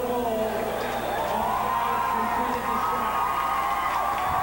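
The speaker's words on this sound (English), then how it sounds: "I don't know why everybody was cheering" Crowd at a high school ice hockey game between New Trier and Loyola cheering a disallowed offside goal, a loud, sustained roar of shouts and whoops from an arena crowd lasting throughout.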